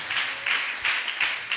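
A church congregation claps during a sermon. Four or five rhythmic bursts of hand clapping sound in quick succession, moderately close and fairly soft, with no talk over them.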